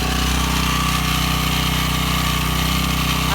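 A Firman generator engine, warmed up after about 15 minutes of running in its first start and break-in cycle, gives off a loud, steady, close droning hum with no pauses.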